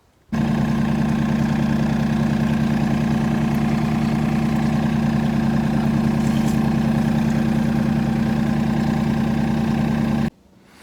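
A tractor engine idles close by on a farm with a steady, low, throbbing drone that starts abruptly and cuts off just as suddenly near the end.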